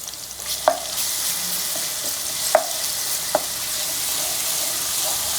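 Ginger-garlic paste frying in oil with onions for methi chicken, a continuous bright hiss with three or four distinct spoon taps against the pan, close and without speech.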